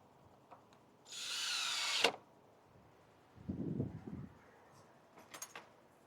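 A power drill drives a drywall screw into the back of a cider press motor kit, one whining burst of about a second, followed by quieter clunks and handling noises of the parts.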